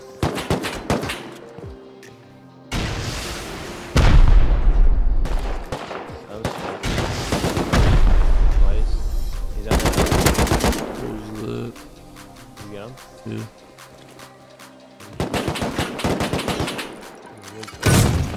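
Gunfire hitting a sheet metal wall during a base raid in the video game Rust, with loud bursts of rapid automatic shots in several volleys separated by brief pauses, while players talk in between.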